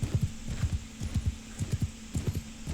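A horse gallops across an open field in Mount & Blade II: Bannerlord, its hooves striking in quick, rhythmic triplet beats, close and clear over a low steady hum.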